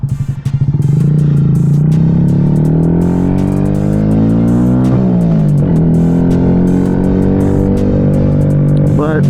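A 2025 Honda Grom SP motorcycle with a Stage 1 upgrade revs hard from a start-up, its single engine note climbing, peaking near the middle, then dropping and settling into a loud, steady, close idle.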